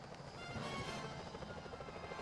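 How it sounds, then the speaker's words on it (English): A security helicopter in the video game Sly 4: its rotor thumps steadily with a whining engine wash, loud and continuous for the whole short stretch. "Those security choppers are bad news."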